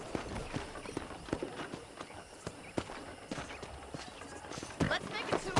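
Hooves clopping at a walking pace in Red Dead Redemption Remastered on a ranch, regular, fairly soft thuds over an ambient outdoor background.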